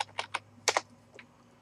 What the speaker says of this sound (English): and I'm typing root.